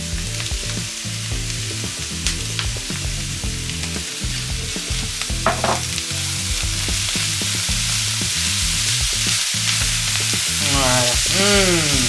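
Shallots, banana shallot and garlic fry in a pan with mushrooms, a loud, steady close sizzle with scraping stirs throughout, swelling slightly toward the end.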